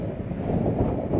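Steady wind buffets the microphone with a low rumbling roar, brief and unbroken.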